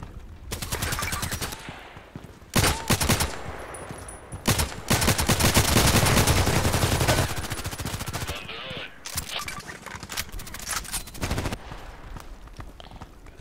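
Gunfire from the online shooter Contract Wars on the Terminal 2 map, with dense bursts of rapid automatic shots and loud single reports packed into long stretches, and a player talking over the action at times.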